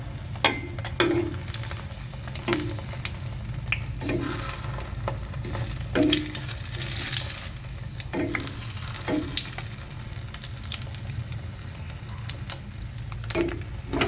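A torta (omelette) fries in a pan with steady close sizzling, along with occasional clinks and stirring knocks, and no talk over it.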